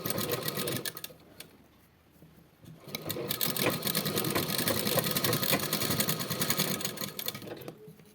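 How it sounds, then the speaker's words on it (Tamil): A domestic sewing machine stitches a double-layer neck for a tailored garment, running in a steady, loud mechanical whir that pauses briefly, then resumes continuously, close up without speech. "ஸோ நான் இந்த மாடலில் கூட உங்களுக்கு டபுள் லேயர் எதுக்கும் ஸ்டிச் பண்ணி காட்டுறேன்."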